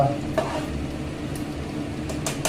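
Dalia khichuri stirred continuously in a pot, a close, steady soft sizzle and bubbling with a few sharp scrapes of the spoon against the metal, with no talk.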